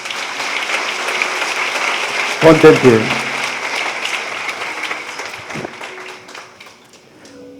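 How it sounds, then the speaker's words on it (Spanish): A church congregation applauds during a sermon, a steady wash of clapping under a preacher's voice, with a brief thump of movement partway through. "¿Le puedes dar un aplauso a Jesús?"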